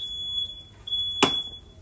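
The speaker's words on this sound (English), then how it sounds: "I know y'all probably keep wondering why my fire alarm is going off." A smoke alarm gives a single sharp, loud chirp, with a faint thin electronic tone hanging in the background before and after. No talking.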